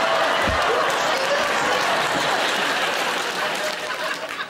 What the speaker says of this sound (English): Some people applauding.